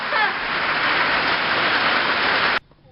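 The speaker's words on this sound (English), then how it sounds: "It is pouring." Heavy rain pouring down in a dense, loud, even hiss of drops hitting surfaces, which stops abruptly near the end and leaves near silence.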